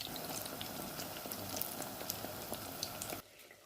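Eggplant fritters (beguni) frying in a pan of oil, a dense continuous crackle and hiss with scattered pops, close and moderately loud, cutting off abruptly near the end.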